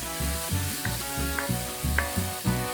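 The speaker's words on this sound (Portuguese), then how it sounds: "a gente vai refogar aqui no azeite de oliva, na cebola, meia cebola bem picada" Onion and leek softening in olive oil in a pan give off a steady close sizzle, broken by soft periodic stirring knocks roughly every half second.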